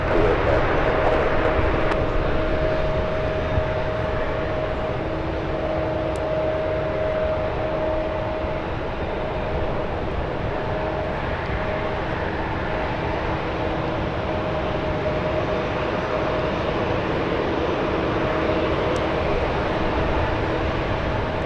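A United Airlines Boeing 777 taxis across runways at San Francisco International Airport, heading for runway 28, giving a steady broad jet-engine roar with a faint sustained whine throughout, distant and continuous.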